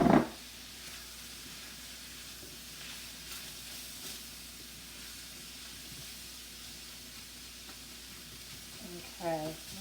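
Beef and green onions stir-frying for hoisin beef udon, a soft, steady sizzle and hiss running throughout with brief clatters of utensil contact at the start and end.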